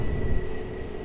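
A jet airliner on its takeoff run at Lisbon Airport on runway 20 makes a steady, loud engine roar with a constant whining tone, heard from nearby for about a second.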